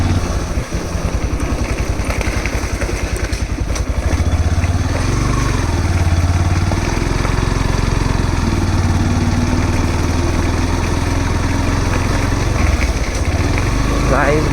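A Yamaha FZ motorcycle rides along a rough, rain-soaked off-road track, its engine a steady, loud, close drone that surges and settles throughout, with faint talk beneath it.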